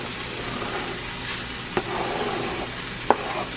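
Onions sauteing in a pan for chili, a steady close sizzle and frying hiss with occasional stirring scrapes and a couple of sharp clicks of a utensil against the pan, no voices.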